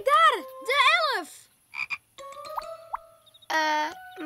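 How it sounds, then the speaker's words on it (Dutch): A cartoon frog croaks in several bouncy, warbling bursts with short gaps, close and loud, ending in one long, steady croak. "Maar dat is wel een kikker, Simon."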